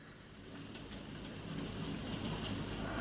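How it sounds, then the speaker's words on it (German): Hail falling onto a table outdoors, a dense, steady patter of small hits that grows a little louder partway through, with no voices. "seht ihr das auf dem Tisch, wie es hagelt?"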